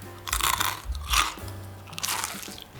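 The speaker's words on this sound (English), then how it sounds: "I don't know if you capture my crunchy bites." Loud crisp crunches from biting into a crisp-baked fried calzone filled with pecorino cheese, mortadella and truffle, three separate bites close to the mic with chewing between them.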